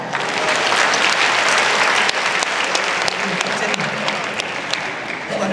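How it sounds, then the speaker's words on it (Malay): Loud, dense applause from an audience at a talk program, continuous and close throughout, with faint voices underneath. "Tepuk tangan"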